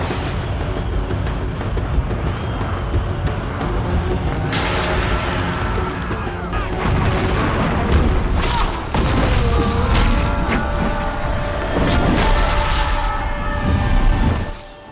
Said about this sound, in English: Oh yeah, we got a rocket launcher, forgot to mention those. You can also control them.